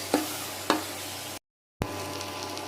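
Green chillies, garlic and ginger are lightly stir-fried in a pan, a soft, steady sizzle punctuated by three sharp stirring clacks, with a short silent gap midway and a low hum beneath.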